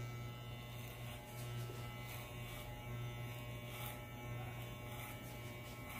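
An electric hair clipper held upright cuts hair in a barbershop, a steady close buzzing hum running continuously and alone.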